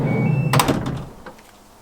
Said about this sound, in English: I'll just open the side door.